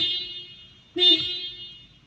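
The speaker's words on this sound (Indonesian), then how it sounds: "Kerja klakson oke." A car horn gives two short honks about a second apart during a vehicle inspection check of the steering and horn, heard close with light background noise.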